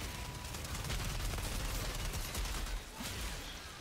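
Rapid enemy gunfire in the video game Outriders rattles as a continuous, dense fusillade of shots throughout, fairly quiet and without talk.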